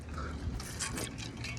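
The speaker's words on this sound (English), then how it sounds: "Let me drink some holy water" Holy water being poured, a short, quiet trickle of liquid with faint splashing bursts, close by and without talk.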